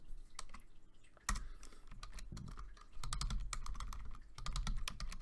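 Typing on a computer keyboard while writing Python code, a steady run of close, crisp key clicks with a few louder taps and brief pauses, no voice over it.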